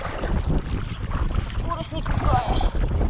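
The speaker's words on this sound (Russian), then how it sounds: "Ветер в лицо." Steady wind noise buffets the microphone over the low rumble of a moving boat on water in the North, with faint voices in the background.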